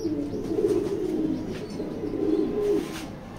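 Black pied pigeons in a loft coo steadily, a soft, low, continuous warbling from several birds close by, with no voices.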